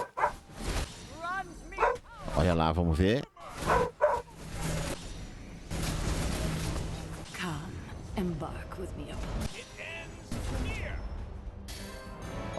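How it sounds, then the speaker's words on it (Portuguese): A dog barks in short bursts at a neighbor, mixed with yips and whimpers and set against loud game sounds and a person talking. "O cachorro tá latindo pro vizinho."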